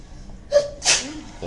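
One close sneeze: a short inhaled catch followed by a sharp, hissing burst, with a faint voice afterward.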